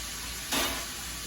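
Chicken pieces for a sandwich sizzle in a pan over medium heat, a steady close crackle that swells briefly louder for a moment before settling back.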